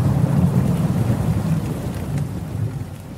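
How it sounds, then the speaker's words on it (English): Steady rain falling at the start of a shower, a dense, even hiss with low rumbling underneath, heard continuously at a fairly loud level with no voices. "it starts to rain."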